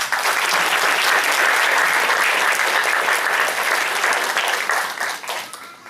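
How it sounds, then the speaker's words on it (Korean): Audience applause at a graduation ceremony: a dense, steady wash of clapping from a large crowd that holds evenly for about five seconds, then quickly fades out. "운영자분들한테 박수 부탁드립니다."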